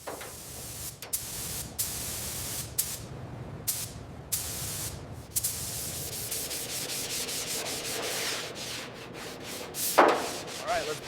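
Body filler on a classic Porsche 911 being sanded, with a continuous rough rubbing hiss broken by short pauses between strokes, close and loud, with no clear voices.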